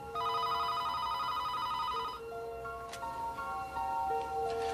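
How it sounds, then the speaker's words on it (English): A telephone rings late at night, around 11:30, inside a house, with a loud, repeated electronic ring tone that stops and restarts in several bursts and has no talking over it. "when the phone rings"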